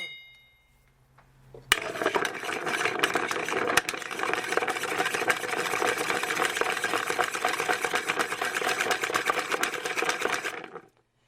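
Ice being stirred with a bar stirring spoon in a mixing vessel for a martini, a steady close rattle and clink of cubes that starts abruptly and runs for about nine seconds before stopping, with no talking.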